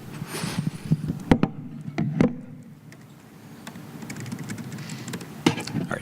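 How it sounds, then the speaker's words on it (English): Typing on a computer keyboard during a Kubernetes conference talk: a run of close, irregular clicks and clacks with a few louder key strikes, over quiet room noise. "Typing and speaking into the mic is a little bit challenging."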